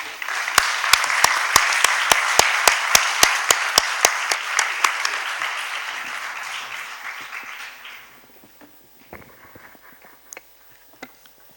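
Audience applause at a public gathering on revitalizing small villages in the Val Lapisina hills, a loud burst of clapping with sharp individual claps up front that thins and fades out, leaving a few scattered claps and room noise.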